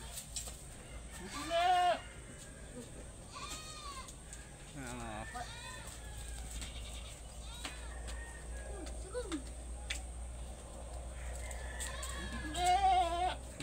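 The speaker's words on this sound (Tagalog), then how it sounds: "Kambing natin na nangungulit na si si Baldo." Baldo the goat bleats several times in short wavering calls amid a farmyard setting, with people talking nearby and a low steady background hum.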